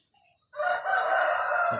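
A lightweight Burmese fighting rooster crows once, loud and close, a long sustained call that follows a faint brief chirp.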